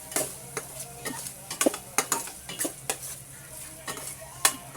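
Sisig on a hot plate sizzling softly while chili and onions are added, with frequent sharp clicks and scrapes of a metal utensil stirring against the plate.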